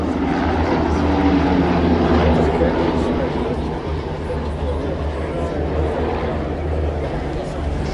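Propeller aircraft fly past in formation at an air show, a steady loud engine drone that persists the whole time without pausing.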